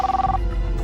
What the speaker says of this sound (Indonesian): Ada telepon.